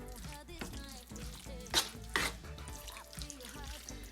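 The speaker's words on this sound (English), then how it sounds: "Now I'm gonna add some mozzarella, and I'm just gonna stir that in" A spoon stirs mozzarella into a dish in a pan over low heat, with soft scraping, gentle sizzling and a couple of sharper clinks against the pan, close and moderately quiet.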